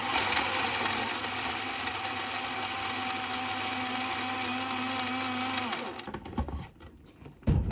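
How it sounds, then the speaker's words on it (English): A blender crushes ice for a piña colada, a loud steady whirring grind that runs alone for several seconds, then cuts off and gives way to clatter and handling noise. "I haven't used this blender in such a long time."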